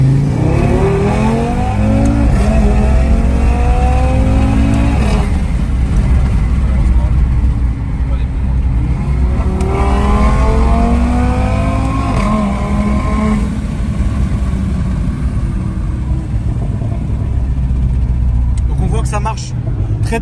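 A car accelerating hard onto the highway, its engine roaring loudly and climbing through several gear changes with repeated rising pitch sweeps and heavy road rumble throughout. The car may be a Renault Sport.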